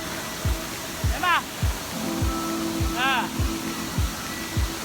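A steady, broad rush of falling water fills the scene, with voices talking over it and some rhythmic low thumps in the foreground.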